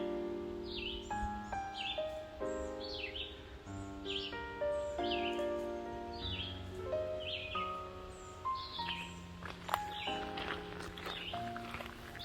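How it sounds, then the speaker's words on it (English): Birds sing and chirp repeatedly along a wooded hiking trail, bright overlapping calls at moderate distance, with footsteps crunching and leaves rustling beneath them. "Do you hear the birds?"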